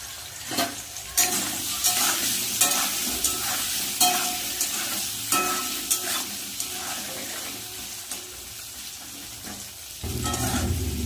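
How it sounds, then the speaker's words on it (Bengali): Potatoes with salt and turmeric sizzle in a hot pan as a spatula scrapes and stirs in regular strokes, close and steady. "আলুটা একটু ভালোভাবে ভাজা হওয়ার জন্য দিয়ে দেবো"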